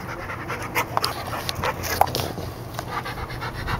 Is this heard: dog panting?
yes